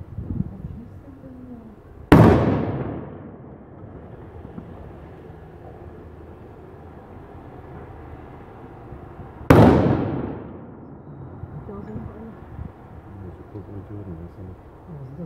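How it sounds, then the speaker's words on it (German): Two loud gunshots from a long-barrelled gun ring out outside a synagogue in Halle, Germany, each a sharp crack trailing into a long echo, spaced several seconds apart over a quiet background. "Das ist richtig Schüsse, denkst du?"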